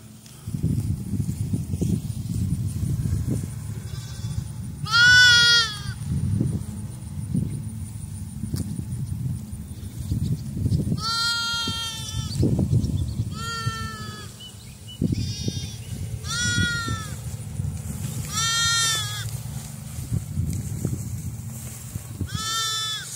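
Several goats bleat repeatedly, some calls overlapping, close by over a low rumbling background and occasional shuffling.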